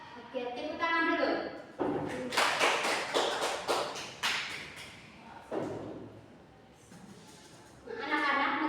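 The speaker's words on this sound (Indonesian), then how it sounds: "Oke, tepuk tangan dulu." Schoolchildren in a classroom clap their hands together in several loud, close bursts of rapid claps with short pauses between them, mixed with children's voices and chatter.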